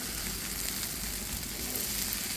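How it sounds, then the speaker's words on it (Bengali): Yardlong beans and potatoes fry in a little oil and get stirred in the pan, giving a dense, continuous loud sizzle close up with soft stirring underneath and no voices. "এই যে নেড়ে ছেড়ে নিচ্ছি।"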